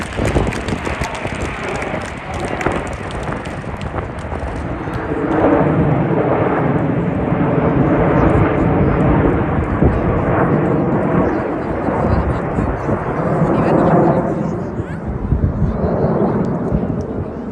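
A Spitfire roars past at the Midlands Air Festival air display, a loud, broad engine drone that swells midway, holds, and then eases slightly as it passes.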